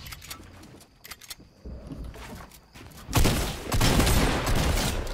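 Pistol gunfire in Fortnite, a rapid burst of sharp shots near the start, then loud dense gunfire and explosive noise filling the second half of the clip.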